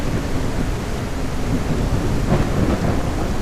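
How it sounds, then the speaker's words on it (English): Rain and a low rumble of thunder in the survival game No One Survived form a steady, dense hiss of heavy rainfall with a deep rolling undertone that swells slightly near the end, and no speech. "I wish our rain would freaking stop."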